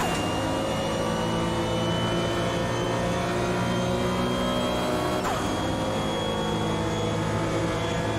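Race car engine in the Automobilista 2 racing game at Daytona, a loud, steady droning roar with sustained harmonic whine that shifts pitch briefly midway, running continuously with no talking.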